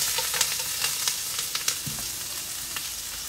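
One onion and one pepper sizzle in hot oil in a pan, a steady broadband hiss with scattered crackles and pops, fairly close and with no voices.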